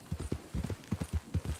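Horse hooves clip-clop at a walk in Red Dead Redemption 2, a steady close rhythm of soft thuds that keeps going through the whole stretch with no speech.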